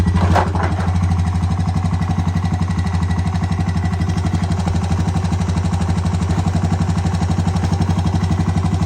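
A clapped-out 2007 Honda TRX250TE ATV, a heavy smoker with a freshly working carburetor, idles steadily with a close, even, rapid throbbing pulse that holds at a constant level throughout, with no talking.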